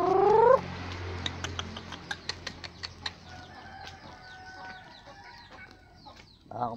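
Chickens in a garden cluck in a short series of sharp, repeated calls close by, with a brief higher call at the start and a soft outdoor hum underneath.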